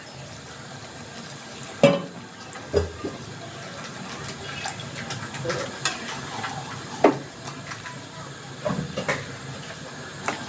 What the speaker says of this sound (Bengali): এবার আমি দিয়ে দিচ্ছি আলুগুলো এবার আমি অল্প একটু জল দিয়ে দিচ্ছি